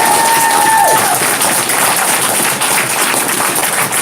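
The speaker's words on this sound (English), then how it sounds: "Let's have one more big round of applause for all our inductees" A large audience at a horror host hall of fame induction event breaks into loud, sustained applause for the inductees, dense clapping filling the room from start to finish.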